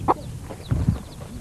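A hen in a rural Pakistani village gives a few soft, low clucks, faint and spaced out against quiet background ambience.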